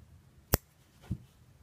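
Two quick, quiet snips of scissors cutting crochet yarn, about half a second apart, each a sharp brief click against a near-silent background.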